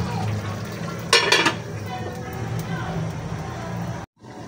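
A lid set back onto a cooking pot with coconut milk inside, a brief close metallic clatter rising over background hiss and kitchen noise.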